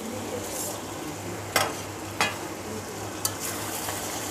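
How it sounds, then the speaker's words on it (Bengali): Mutton kosha being stirred in a pan as it cooks down, a soft steady sizzle under a low hum, broken by three sharp scraping clacks of the spoon against the pan. "এবার ঢাকা দিয়ে আস্তে আস্তে এটাকে কষিয়ে নেব, মাঝে মধ্যে নাড়াচাড়া করে দেব।"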